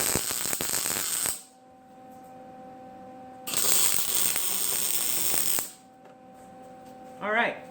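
Tack welds on a steel tube welding table frame come as two loud, crackling hissing bursts a couple of seconds each, with a low steady hum between them.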